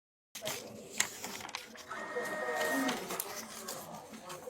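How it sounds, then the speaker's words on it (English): A printer whirs and clicks as it feeds and prints a page, starting abruptly, with a rising mechanical drone and brief tones, heard under a voice talking. "I'm gonna keep printing out"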